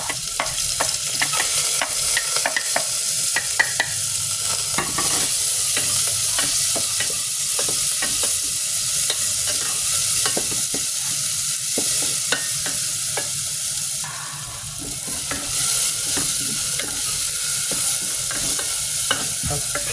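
Garlic and ginger sizzle steadily in a hot pan while being stirred for a home-cooked papaitan, with continuous frying hiss and frequent scraping utensil clicks throughout, no voices.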